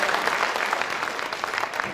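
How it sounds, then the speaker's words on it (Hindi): An audience at a Hindi poetry gathering (kavi sammelan) in Kotma claps for the host, a dense, steady burst of many hands that is fairly loud and continuous throughout. "एक बार संचालक महोदय के लिए आप ताली बजाइए।"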